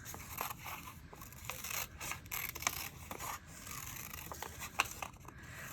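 Scissors snip through paper in a series of quiet, irregular crisp cuts and rustles, close by and fairly faint.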